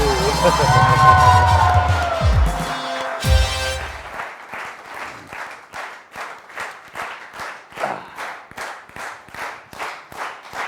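A TV courtroom-show studio audience claps in sharp, regular rhythmic bursts after music fades out, the beats loud and close with a little crowd murmur between them.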